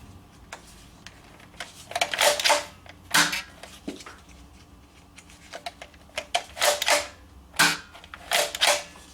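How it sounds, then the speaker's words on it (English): Mechanical clacks and snapping shots come from a blue and white Nerf N-Strike Longshot blaster as its front gun is primed and fired repeatedly, in loud, irregular bursts close by with no talk. "And now I'm going to do the front gun."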